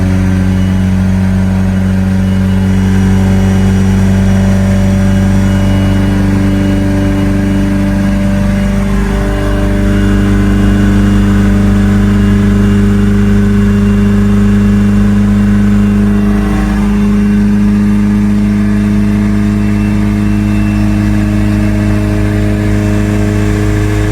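A tuned Mitsubishi Evo on a stock block with an AGT 64mm turbo drives with the air conditioning on full, its engine droning steadily and loud up close, with a few gentle rises and falls in revs throughout.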